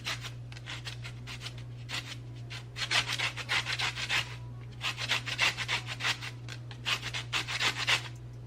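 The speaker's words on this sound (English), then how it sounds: "I just feel like it's easier just to zest the rest of a next lemon" A lemon rubbed against a zester in quick bursts of short, crisp rasping strokes, close and fairly loud, with brief pauses between runs over a low steady hum in a home kitchen.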